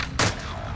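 A single sharp gunshot from a sniper rifle in a Search and Destroy match of a shooter video game cracks once, close and punchy, then fades quickly.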